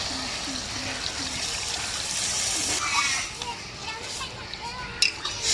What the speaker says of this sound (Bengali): সবজিটা কষানো হয়েছে, পরিমাণ মতন জল দিয়ে দেবো।